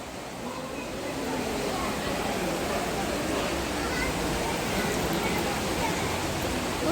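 Continuous rushing water roars nearby at a fast-flowing river bathing spot, steady and full, with faint voices murmuring underneath.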